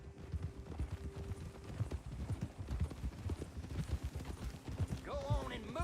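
A horse's hooves clip-clop rapidly and steadily in a video game, close and rhythmic over a low rumble, with a short whinny-like sound near the end.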